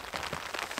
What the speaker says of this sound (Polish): Zaczął padać deszcz